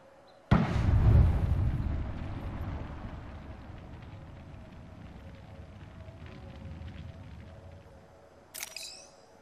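A grenade goes off in Apex Legends: one loud, sudden blast followed by a rumbling decay, with a brief metallic burst near the end.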